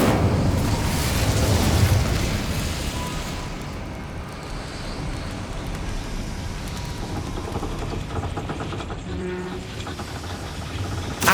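Incendio fire spell cast in Hogwarts Legacy, a loud rushing burst of flame that swells early and then settles into a sustained crackling roar.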